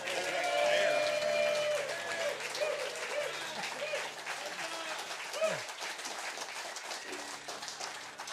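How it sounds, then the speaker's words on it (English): Audience at a banjo gathering's final concert breaks into loud, sustained applause that gradually thins, with some voices and cheers mixed into the clapping. "would you please give a warm gesture of applause and affirmations to Christina Gaddy, Lillian Werben, and Hank"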